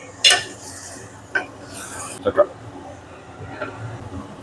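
A spatula stirs chicken fry with liver in a pan, with a few scraping clinks and knocks against the metal at irregular moments over a soft background, close by, while a voice talks.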